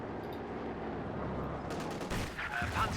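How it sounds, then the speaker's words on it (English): In Company of Heroes 2, an Ostwind flak tank and another tank open fire, a burst of rapid distant gunfire rising out of a steady battle-noise background. "The Ostwind and the 2-2 opening fire."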